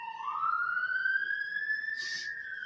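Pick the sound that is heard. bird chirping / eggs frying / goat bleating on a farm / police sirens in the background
police sirens in the background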